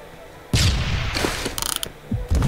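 Gunfire in the Roblox shooter Phantom Forces, with sniper rifles among the weapons: loud, close bursts of shots and clattering mechanical reports, including a quick rattling run of cracks, all in the foreground.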